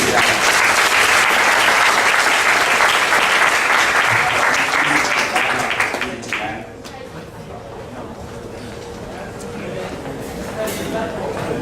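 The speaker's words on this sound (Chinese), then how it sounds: "掌声来鼓励他们，跟谢谢他们。" A church congregation applauds after a Thanksgiving music testimony service, dense steady clapping filling the room for about six seconds before thinning into scattered claps and a softer crowd murmur.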